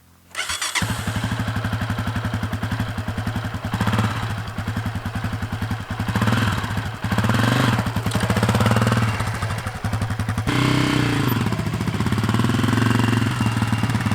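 A Honda CRF250f dirt bike engine starts abruptly and then runs loud and close, its rough, rapid chugging rising and falling as the throttle changes while it rides, with brief dips between revs and no voices.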